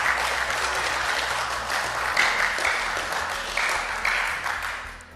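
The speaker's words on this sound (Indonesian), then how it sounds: "Pimpinan tepuk tangan dulu dong." Committee members at a parliament hearing of Indonesia's House Commission III clap in sustained, dense applause that fills the room at moderate volume, with a faint voice underneath.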